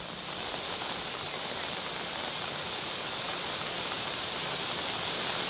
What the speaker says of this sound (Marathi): रात्रीपासूनच लांजा तालुक्यात मुसळधार पाऊस पडतोय